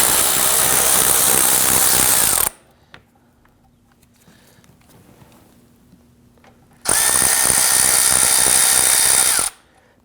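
A power tool spins out T30 Torx screws from the splash shield under a 2009-2017 Volvo XC60 in two loud, high-pitched whirring bursts of a couple of seconds each, separated by a quiet pause.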